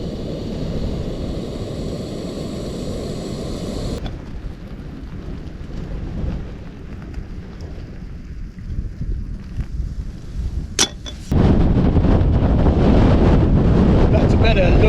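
Strong wind batters a winter wild camp on Mill Hill in the Peak District, roaring steadily against the microphone and surging louder near the end. A voice talks briefly under the gusts.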